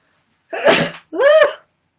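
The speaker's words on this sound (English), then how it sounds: "I have to sneeze." A single sneeze, a sharp breathy burst followed by a louder voiced second part, close and loud with silence around it.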